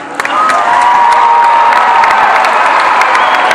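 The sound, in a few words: audience applause for the parents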